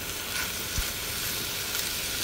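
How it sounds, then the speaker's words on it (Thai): Chinese sausage fries over low heat in a dry pan with no oil, giving a soft, steady sizzle and faint crackles close by. "ทอดกุนเชียงต่อนะคะ"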